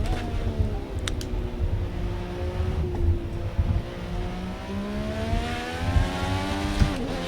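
IndyCar engine in Project Cars 2 revving hard through the gears, a loud, close, high whine climbing in pitch with brief dips at shifts, continuous throughout with light tire noise beneath.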